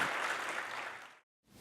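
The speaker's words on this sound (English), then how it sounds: "Please join me with a round of applause and welcome Amir Uncle Amir Ali Karim to address us all." Audience applause fills a gala dinner hall, steady dense clapping that fades out, followed by a brief silence and a fresh burst at the end.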